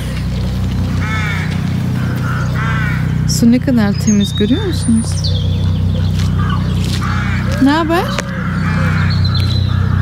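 Ducks call repeatedly outdoors at a natural spot, with short close calls in two clusters, under people talking and a steady background rumble.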